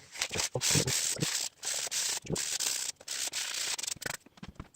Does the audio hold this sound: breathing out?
no